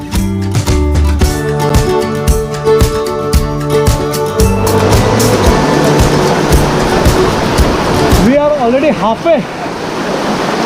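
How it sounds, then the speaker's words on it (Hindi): A waterfall along the monsoon trek to Karnala Fort gives a steady, broad rushing roar, blended with tonal, music-like sounds early on, and a person speaks briefly near the end. "यहाँ एक वाटरफॉल है, वहाँ रेस्ट ले रहे हैं।"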